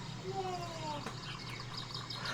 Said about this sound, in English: Let me turn off the birds